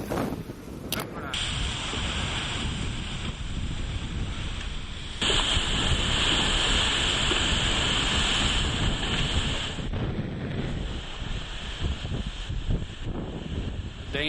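Howling wind and rushing, rough sea surging continuously in a storm near Cape Horn, loud and close, with a high whistling tone through much of it.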